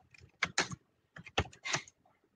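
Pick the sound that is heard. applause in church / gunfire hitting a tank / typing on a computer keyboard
typing on a computer keyboard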